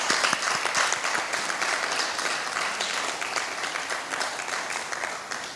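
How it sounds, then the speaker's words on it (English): A school audience applauds at an inter-high school debate day, with many hands clapping in a dense, lively burst that starts strong and slowly tapers. The room is full and no one speaks over it. "Please give her a round of applause."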